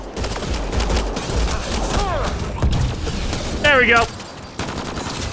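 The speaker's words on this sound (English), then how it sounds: "Using a pistol against people with like assault rifles sucks." Pistol and assault rifle gunfire in the Mass Effect Andromeda game, a steady loud fusillade of overlapping shots with a short voice near the end and a brief pause before the firing resumes.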